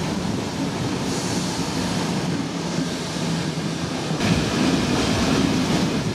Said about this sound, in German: eine Fahrt mit der historischen Schienenbusgarnitur Roter Flitzer